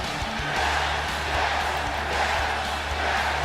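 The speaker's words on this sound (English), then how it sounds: "He's got the crowd out here screaming, yes, yes, yes." In WWE 2K19 Universe Mode, an arena crowd roars a steady wash of cheering and chanting for Daniel Bryan, dense and continuous without individual voices standing out.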